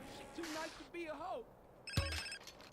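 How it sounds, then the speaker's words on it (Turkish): A phone rings in GTA San Andreas, a bright electronic trilling burst near the end, following two rising and falling warbling tones, with someone talking quietly underneath. "Telefon çaldı."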